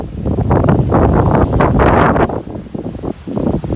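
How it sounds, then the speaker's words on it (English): Strong gusty wind buffets an outdoor microphone at a backyard pond build site, loud roaring bursts that swell and dip with rustling, no talking. "Real windy"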